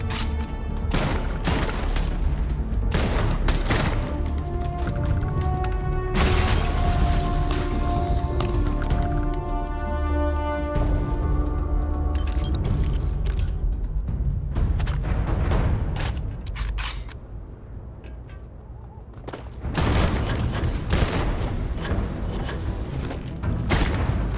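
Gunfire in the sci-fi game Starfield: repeated sharp shots and thuds in dense bursts throughout a long firefight, with a short lull near the end before the shooting resumes.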